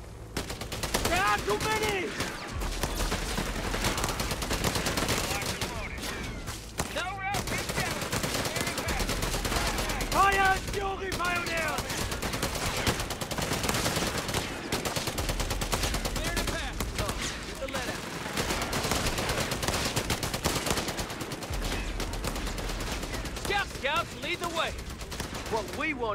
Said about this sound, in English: Kraut machine gun!